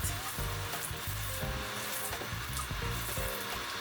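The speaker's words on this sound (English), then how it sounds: "So you need to toast your curry, not burn your curry, right?" Curry powder toasting in a hot pan, giving a steady close sizzle with faint stirring scrapes and no pauses.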